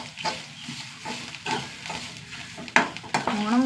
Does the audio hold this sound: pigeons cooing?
no